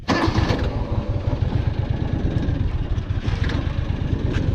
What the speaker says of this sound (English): I should start it right up for you guys, let you guys hear how it runs.